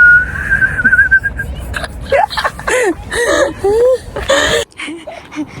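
A person whistles a short sustained warbling tone, followed by a series of bursts of voices, laughter and chatter layered with brief whistle-like squeaks, loud and close.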